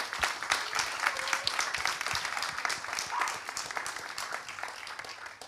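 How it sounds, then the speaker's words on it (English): A conference audience at a talk on greener cities applauds the panelists with steady, dense clapping throughout, and no voices are heard. "let's get a massive round of applause for our panelists who joined us today"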